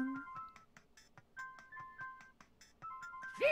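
A tinny electronic ringtone melody from the Brain Creek ringtone in the video game Homestar Ruiner plays as a string of short bright beeping notes with clicky percussion, quiet and alone, ending in a brief rising chirp.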